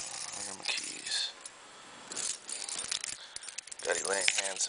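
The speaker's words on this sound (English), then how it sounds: "I got my keys." A set of keys jangles in short metallic bursts while a store is being opened, moderately close, with a voice speaking briefly over the rattling.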